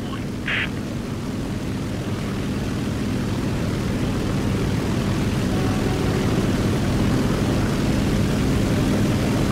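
A propeller assault plane engine drones steadily in the video game War Thunder, a loud continuous roar that holds without break throughout.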